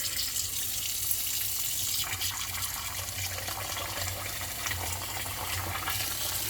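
Running tap water pours steadily into a sink while meat for bulgogi is rinsed, a continuous close gush with a low rumble and no pauses.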